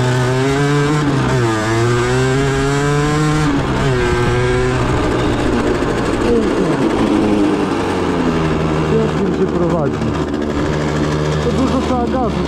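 Derbi Senda motorcycle engine revving hard and continuously, pitch sweeping up and down through gear changes with a rough, botched downshift, loud and close throughout.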